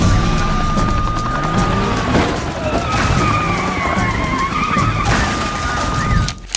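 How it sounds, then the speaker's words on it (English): A Mustang skids and crashes off course during a police chase, with loud, sustained tyre screeching over a roaring engine, close and continuous for several seconds, ending in an abrupt jolt. "Mustang crashing off course."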